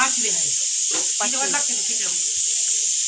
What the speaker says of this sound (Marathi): शिट्याचा आवाज येतो घरात